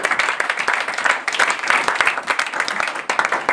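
A church congregation claps and applauds together, a dense burst of continuous clapping that stays fairly loud and steady from start to finish.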